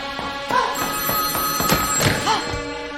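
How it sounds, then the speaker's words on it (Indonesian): A public pay telephone rings with repeated electronic bell trills, several bursts in quick succession that sound fairly close, with some faint background thuds and no talking. "Ketika sampai di sana dan mengangkat telepon tersebut, tiba-tiba Avery pun tertangkap."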